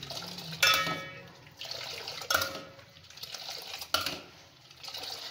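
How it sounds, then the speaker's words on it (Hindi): Water is poured into Kashmiri pink tea and the tea is whisked, giving splashy liquid sounds with a few sharp bursts of pouring and stirring, heard alone at close range. "अब ये मैं थोड़ा सा पानी डाल के अब इसे फेंट लूँगी।"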